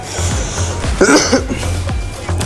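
A single brief, muffled cough breaks through a steady background hum, close to the microphone.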